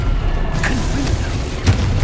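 Confringo blasting spell from Hogwarts Legacy: a single low, booming explosion with a brief punchy onset late in the clip, set against continuous rumbling game ambience.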